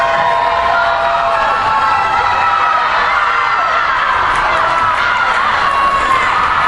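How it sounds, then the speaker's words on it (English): Enthusiastic crowd at a girls' swim and dive finals in Marysville, Michigan, loud and continuous throughout, with shouts and whoops over a dense roar of voices in an echoing natatorium. "Man, we've got an enthusiastic crowd here today on this Saturday, November 8th, 2025, right here in Marysville, Michigan."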